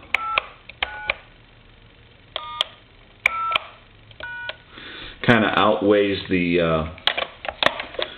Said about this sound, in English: I think having a touch tone phone now is kind of outweighs the